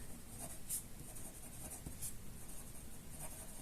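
A pen scratches across paper while a geometry construction is drawn, with quiet steady strokes and a few sharper ticks, close and faint, with no talking.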